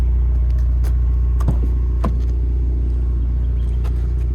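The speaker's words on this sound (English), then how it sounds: "listen to this exhaust, I really like this" Turbocharged four-cylinder exhaust of a 2025 Ford Mustang EcoBoost Premium on the road, a steady deep rumble heard from inside the cabin, with a few faint clicks and knocks over it.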